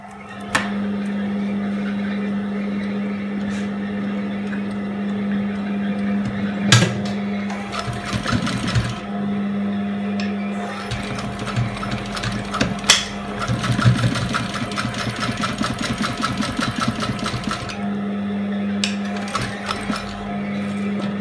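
A sewing machine stitches a leather bag with a steady, fast mechanical hum and clatter, pausing and restarting several times, with occasional handling noises and no speech.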